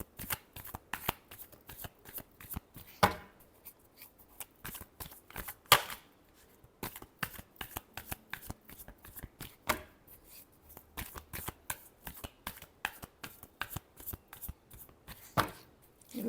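Tarot cards are shuffled by hand in repeated quick riffles and snaps, close and crisp, with brief pauses between bursts and no talk.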